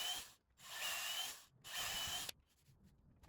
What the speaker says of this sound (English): now I'm just drilling right through the piece of wood by hand